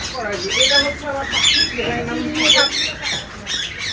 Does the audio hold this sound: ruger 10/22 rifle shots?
no